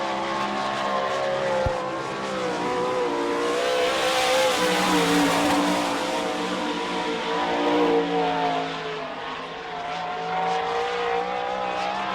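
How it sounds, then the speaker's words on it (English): A sprint car takes a single lap around a dirt speedway at an All Star Circuit of Champions race in Sarver, Pennsylvania, its engine droning steadily and swelling as it passes, with continuous loud roar and no talk. "Okay, Dean Jacobs will be getting one lap in the 8 car."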